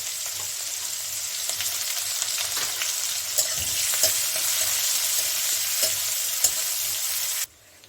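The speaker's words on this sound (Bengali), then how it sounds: "পাঁচফোড়ন আর দিয়ে দিচ্ছি এখানে একটা বড় সাইজের কুচনো পেঁয়াজ" Chopped onion and panch phoron frying in hot oil with dried red chilli, a steady close sizzle with occasional stirring scrapes and pops, cutting off abruptly at the end.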